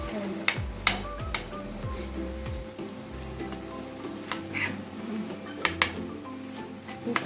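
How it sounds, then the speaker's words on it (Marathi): Boiled potato mashed in a metal pot, with irregular scraping, thuds and clinks of a utensil against the pan, some sharper knocks, heard close and fairly quiet. "आता मी बारीक करून घेणार आहे आपला बटाटा"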